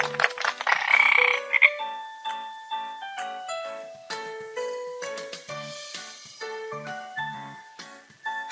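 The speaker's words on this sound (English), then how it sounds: "Frog." A cartoon frog croaks in a kids' shapes puzzle game, with a bright jingling chime at the start followed by a bouncy sequence of tonal croaks and plinks in a playful rhythm.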